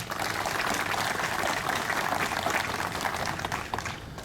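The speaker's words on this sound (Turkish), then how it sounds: "Şöyle gazilerimize kuvvetli bir alkış alabilir miyiz lütfen?" An audience gives a sustained round of applause for war veterans at the opening ceremony of a veterans' association branch in Şile, a steady dense clapping that stays even throughout before easing slightly at the end.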